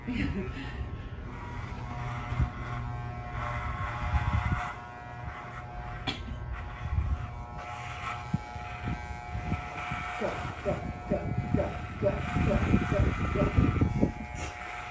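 Electric clippers buzzing as they shave a horse's mane into a roached cut, a steady motor hum with bursts of cutting, heard alongside talking and some rustling.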